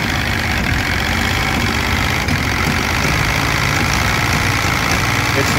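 A 1987 Mercury 60hp inline three-cylinder outboard engine runs steadily and loudly up close, turning the wrong way in counter rotation, with a rough, knocking idle and no break in the sound.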